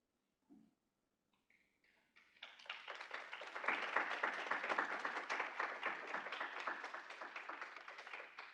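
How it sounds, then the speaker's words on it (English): A room audience bursts into applause, beginning with a few scattered claps and swelling into sustained, full clapping that holds to the end, with no speech over it. "there was a round of applause in the room for two very exciting opportunities which you presented"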